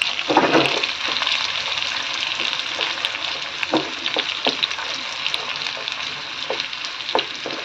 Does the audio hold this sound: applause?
no